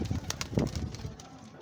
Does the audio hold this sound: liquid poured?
no